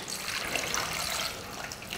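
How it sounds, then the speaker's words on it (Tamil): Water poured into a pressure cooker of tomatoes, turmeric and fenugreek for sambar, a steady close splashing stream lasting about two seconds with no talk. "இப்ப தண்ணி சேர்த்துறலாம்"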